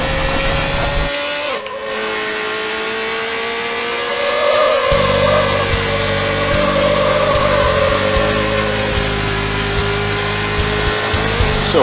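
A car drifting in Need for Speed Hot Pursuit 2 (2002) on PC. A loud, sustained engine drone with a long, wavering tire squeal comes through continuously, and the engine pitch shifts partway through. No voices.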